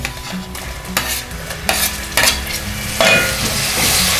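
Tomatoes dropped into onions and ginger-garlic paste sizzling in a pan for restaurant-style veg pulao, with a steady frying hiss broken by several sharp bursts as ingredients are stirred and tossed, close and fairly loud with no talking.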